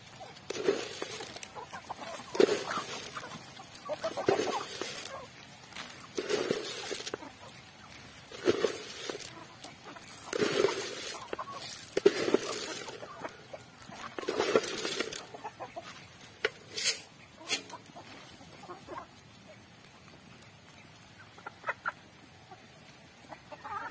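Native chickens cluck in repeated bursts at close range, with short gaps of quieter background between the clucking spells, and no voices.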